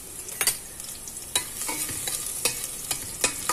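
Garlic and ginger sauté in a hot pan with a steady sizzle, punctuated by sharp scraping stirs about once a second, close and without voices.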